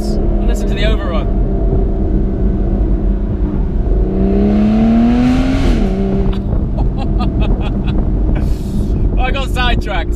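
An Aston Martin Vanquish S Volante convertible engine on overrun, heard from inside the car with heavy wind noise, with a rising and falling engine tone and sharp crackles, while someone talks over it.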